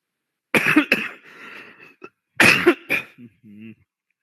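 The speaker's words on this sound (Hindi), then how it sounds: "खांसी तो पीछे नहीं छोड़ रही है" A person coughs in two loud, harsh bursts about two seconds apart, each followed by smaller coughs and throat-clearing, with a brief voiced hum at the end, close to the microphone in a quiet room.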